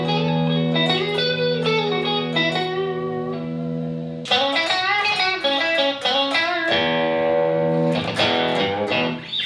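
Clean electric guitar notes and chords from a newly built guitar ring out with sustained, bright tones, played alone in a steady sequence of strums and picked phrases.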